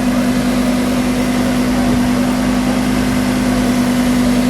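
A 2017 Lamborghini Huracan V10 runs steadily at idle, a loud, even engine hum with a low rumble underneath, unbroken throughout and close by.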